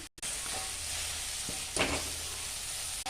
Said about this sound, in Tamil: சோயாவை சேர்த்து நல்லா பரட்டி விட்டுக்கலாம்